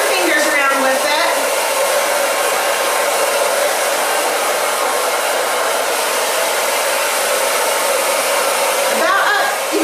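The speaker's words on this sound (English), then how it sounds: "And then her back, I'm just going to start drying up." Loud hair dryer blowing continuously close by while drying a woman's hair, a steady rushing roar that holds for the whole stretch with only slight flutters as it moves.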